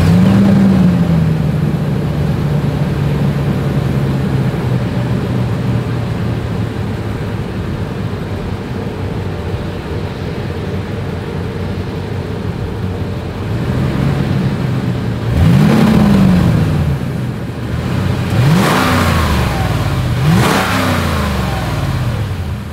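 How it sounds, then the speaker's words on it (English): A 2022 Lexus GX 460 SUV idles with a deep exhaust rumble, then revs sharply several times near the end, each rev rising and falling back. "here is that exhaust clip"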